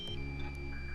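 DJI drone low-battery warning, a faint short series of thin electronic beeps over a quiet low hum, lasting about a second.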